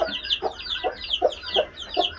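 Several Silver Brakel hens cluck in short repeated bursts about every third of a second, with high, chirpy peeping from chicks layered over them, close by.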